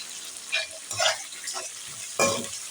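Onions and tomatoes fry in a pan while being stirred, a steady close sizzle broken by several scraping stirs.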